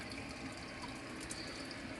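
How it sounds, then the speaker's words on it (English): Ocean water pours steadily into a native-species fish tank, making a continuous, faint, even rush of liquid with no breaks and no talk. "I'm actually adding the ocean water to the tank"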